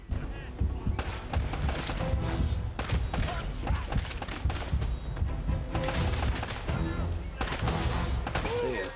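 Gunfire in Uncharted: Drake's Fortune Remastered: repeated sharp shots and thuds in an uneven rhythm through a busy combat mix, at moderate loudness, with a voice talking over it at times.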